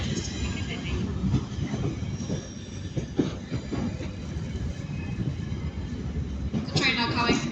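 A Northern train pulls into a platform at Manchester Piccadilly, a sustained rumble with rail clatter and wheel squeal building toward the end, while a station announcement plays over it.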